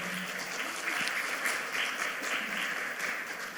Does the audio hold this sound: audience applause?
yes